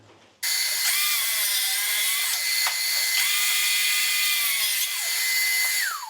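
A power saw cutting a small piece of skirting board, starting abruptly and running as a loud, close, sustained whine with slight pitch dips as the blade bites through the wood, with no talk.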